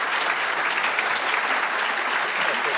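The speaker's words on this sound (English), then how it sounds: "I might just actually allow everybody to just give a round of applause" A conference audience at an Irish politics session gives a round of applause, steady dense clapping filling the room at moderate loudness throughout.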